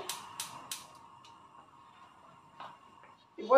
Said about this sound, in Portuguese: Vou ligar o fogo.